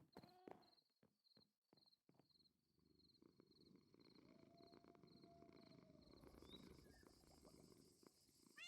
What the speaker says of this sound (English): You can hear her purring.